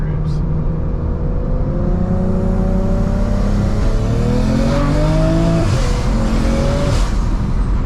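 A BMW 335is with a single turbo engine accelerating on the road, a loud sustained engine roar climbing in pitch through the gears with one shift, heard from inside the car, with people talking over it.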